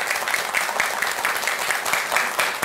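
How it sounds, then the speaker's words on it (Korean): Audience applause in a Buddhist lecture hall, a continuous patter of many hands with slight pulsing swells, moderately loud and unaccompanied by speech. "박수 한번 쳐주자고요."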